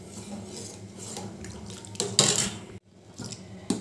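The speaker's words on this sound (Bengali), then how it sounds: "অনবরত নেড়ে যেতে হবে যাতে তলায় না লেগে যায়।" A spoon scrapes and clinks against a pot while a thickening milk custard mixture is stirred on a gas stove, irregular metallic knocks with louder strokes partway through and a brief pause.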